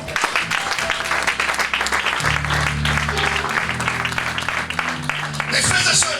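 A church congregation applauds in a dense, sustained burst of clapping, with voices and a low musical or amplified drone running underneath.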